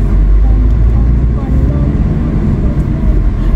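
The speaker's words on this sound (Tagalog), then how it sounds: "Like, traffic." Steady highway traffic near San Fernando, Zambales, is heard from inside a moving car as a loud, constant low road rumble and engine drone, with faint voices underneath.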